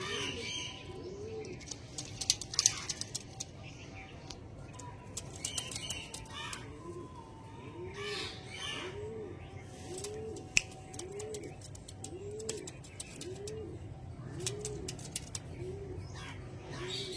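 Domestic pigeons kept at a home loft coo in a slow, regular series of soft throaty calls, mixed with faint chirps, wing flutters and occasional clicks nearby.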